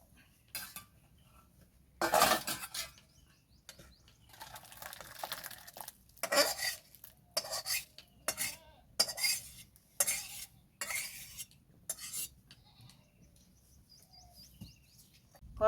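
A pot of spinach dal lifted off the stove in a village-style kitchen: a series of close, sharp metallic clinks and scrapes of cookware in irregular bursts, with faint bird chirps in the quiet background.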